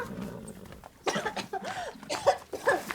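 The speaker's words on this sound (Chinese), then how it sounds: "你还咳嗽呢？" A few harsh coughs close by, rough and throaty, in short bursts over about two seconds.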